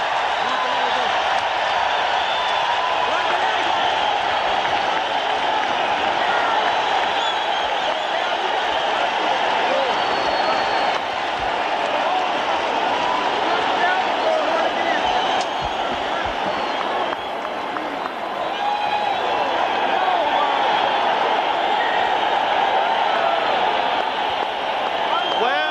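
A pro-Barrera boxing crowd roars in a dense, sustained wall of cheering and applause at the Pond arena after the bell ends the Jimenez–Barrera WBO junior featherweight title fight, with no break for the full length.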